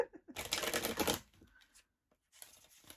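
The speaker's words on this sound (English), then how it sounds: "This is how I shuffle." Tarot cards riffled and shuffled by hand for a love reading, a close, crisp burst of rapid papery flutter followed by a pause and a second quieter shuffle, with no talk.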